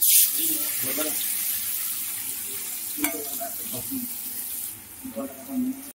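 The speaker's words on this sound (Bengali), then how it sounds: "এবার দিয়ে দেবো তেল গরম, দিচ্ছি পেঁয়াজ।" Chopped onions hitting hot oil in a Delhi Bengali hostel kitchen, a steady broadband sizzle with a few clinks and stirring scrapes, moderately loud and close, easing slightly toward the end.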